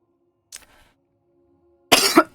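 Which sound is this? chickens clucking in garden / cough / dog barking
cough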